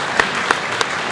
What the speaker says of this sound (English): So I want to applaud her again.